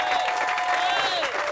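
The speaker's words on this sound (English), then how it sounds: "So please help me give Amber a round of applause" A crowd at a ribbon-cutting ceremony for an affordable housing development claps steadily in dense applause, with a faint whistle or cheer rising above the clapping.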